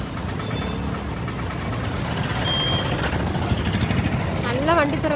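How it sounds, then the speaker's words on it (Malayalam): Busy roadside traffic with idling vehicle engines gives a continuous low rumble, and the engine noise swells slightly midway; near the end a rapid series of electronic reversing beeps chirps out over the traffic. "നല്ല വണ്ടി തിരക്കുണ്ട്."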